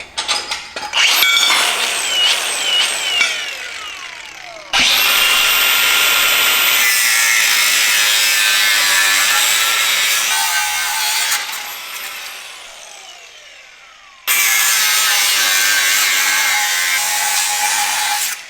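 Power saw cutting through metal sway bar brackets on a 79 Series Toyota Land Cruiser during a suspension lift, loud sustained grinding bursts with brief pauses and a whining pitch sweep, no talk.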